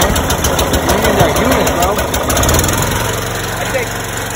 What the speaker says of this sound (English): These chippers, when these chippers start up.